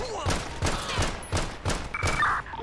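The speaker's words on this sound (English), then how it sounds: "Shots fired." Rapid bursts of gunfire ring out in a GTA police roleplay game during a traffic stop in Chumash Township, roughly six sharp shots at steady intervals, fairly close and loud, with no talk over them.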